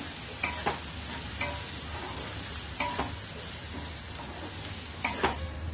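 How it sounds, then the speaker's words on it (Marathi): Raw mango curry sautéed and stirred in a pan, a continuous soft sizzle broken by several sharp spoon scrapes at regular intervals, near and without talk. "दोन मिनिटं झालेले झाकण काढून बघूया जरा परतवून घेऊया"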